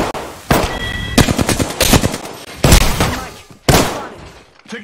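Automatic gunfire in the Apex Legends video game comes as loud, close, repeated rapid bursts separated by short pauses.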